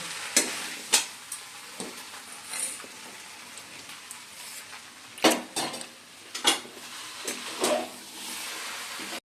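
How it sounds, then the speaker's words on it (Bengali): Chana masala cooks in a pan with a soft background sizzle, broken by several loud spoon scrapes and clanks against the pan at irregular intervals, no talking. "চানা মশলা করা হচ্ছে"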